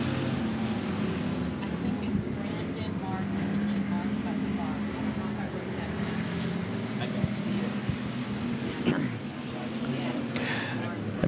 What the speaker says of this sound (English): Green flag is up. We are racing here in our second pure stock race.